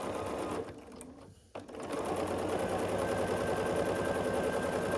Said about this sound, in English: I'm going to start sewing just to hold it in place for me.